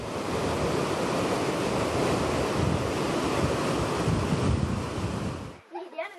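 Floodwater from heavy rain rushes down a mountain slope, a loud, steady, broadband roar that holds unbroken for over five seconds before cutting off abruptly near the end.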